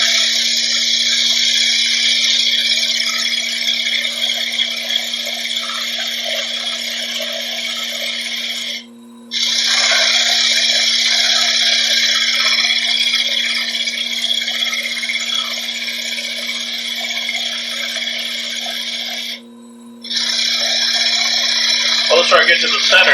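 A wood lathe spins a dried green bowl, giving a steady mechanical whine layered with scraping cutting noise that stops briefly twice.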